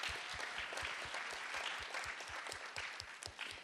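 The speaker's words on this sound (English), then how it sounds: "let's give her another round of applause" Steady applause from a church audience, dense clapping throughout with rhythmic low thumps underneath, moderately loud and continuous with no talking.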